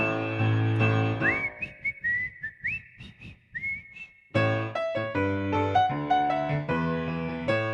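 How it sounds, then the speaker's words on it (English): Shrill, high-pitched human whistling carries a rising, wavering tune, with sustained notes and brief gaps, loud and close. "I can't whistle that high."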